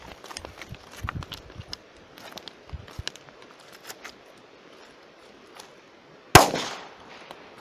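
Soft scattered clicks and rustles, then one sudden sharp bang from a larger Little Pirat firecracker near the end, ringing briefly before fading.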